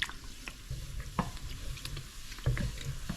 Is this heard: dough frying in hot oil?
yes